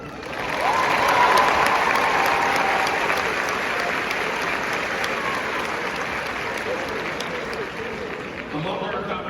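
An audience applauds a graduate coming forward to accept a special medallion at an honors ceremony, with steady, full applause that swells early and holds for several seconds before tapering slightly.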